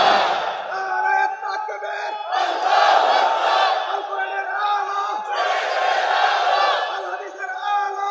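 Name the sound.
crowd shouting a takbir response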